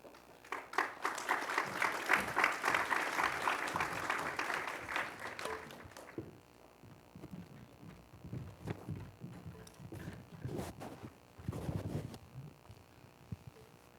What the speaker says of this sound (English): How about one more round of applause for Fresh Off the Boat